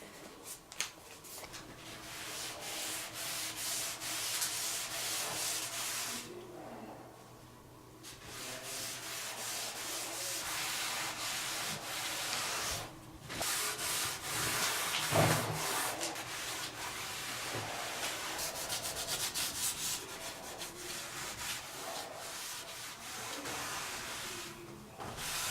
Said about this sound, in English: So what you're doing is you're wiping the stain off